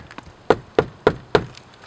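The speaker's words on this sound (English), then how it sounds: "if someone was coming to do the dreaded knock on the door" Four sharp, evenly spaced knocks on a door land in quick succession, firm and close, with a couple of fainter taps just before and no voices.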